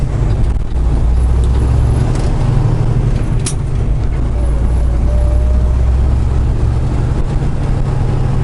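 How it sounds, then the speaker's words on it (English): A semi-truck's Jake brake (engine brake) rumbles on the highway, a loud, steady, low, throbbing roar that holds for several seconds with road noise mixed in. "Jake brake."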